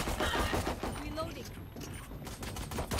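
Rapid, scattered pistol gunfire from a shooter video game, a quick series of sharp shots running throughout while people talk over it.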